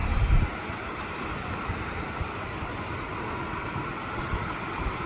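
A Hainan Airlines Airbus A330 airliner roars at Manchester Airport as a loud, broad, steady jet rumble with no voices over it.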